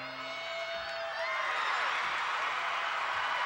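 Arena crowd at a women's gymnastics championship, a broad roar of cheering that swells and holds loud and steady, heard from a distance without distinct voices.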